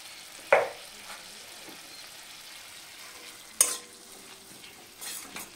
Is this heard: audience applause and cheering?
no